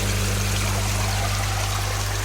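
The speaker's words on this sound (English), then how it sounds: "There's the flow into the shower." Water trickles steadily through a DIY shower trickle tower filter packed with bio media, a loud, continuous splashing wash over a low steady hum from a pump.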